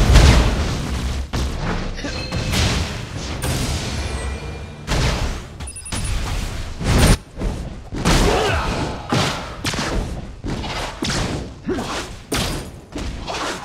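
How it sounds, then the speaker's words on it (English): Heavy booms, thuds and crashing impacts from a Marvel Super War mobile battle as an allied turret is destroyed, loud and dense throughout with repeated explosive hits and no pauses. "An ally turret has been destroyed."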